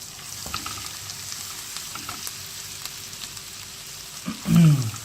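Garlic frying in melted butter for a lasagne white sauce, a soft steady sizzle with faint stirring, ending in a brief louder scrape near the end.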